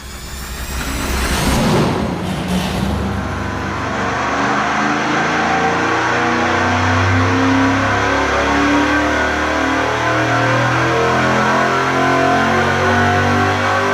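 A stock engine on a dyno, fed nitrous, revs hard and then holds a loud, steady roar for a long stretch, with a deep rumbling drone throughout and no talking.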